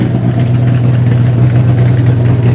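A race car engine idles in the pits at a short-track stadium, a loud, steady low drone with no change in pitch throughout.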